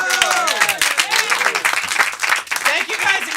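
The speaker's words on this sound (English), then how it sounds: "And one more round of applause for Manala." Audience at a comedy show at Union Comedy clapping and cheering in a dense, continuous burst of applause, with voices whooping and calling out over the clapping.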